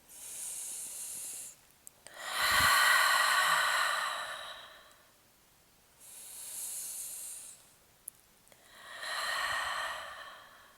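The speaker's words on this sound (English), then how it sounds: "Deep inhale and deep exhale." Deep, slow yoga breaths during a postpartum session, heard as long airy inhales and exhales alternating in a steady rhythm, each lasting a couple of seconds, close and soft with no talking.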